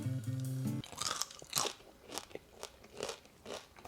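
Crunchy roasted potato from a sheet pan breakfast bake bitten and chewed close to the microphone. A short tone comes first, then a run of crisp crunches in a steady chewing rhythm.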